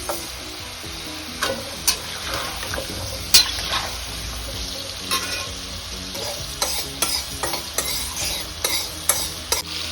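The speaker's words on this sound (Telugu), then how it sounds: "ఒక స్పూన్ మెంతులు ఇవి కూడా ఎర్రగా వేపుకుందాం" A spoonful of fenugreek seeds roasts in a pan under a constant sizzle, with frequent scraping and clinking stirs against the metal, close and without speech.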